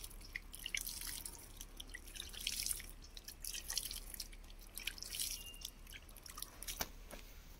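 Small amounts of water are sprinkled onto a plant, producing light, irregular drips and splatters close by, soft and quiet without any voices.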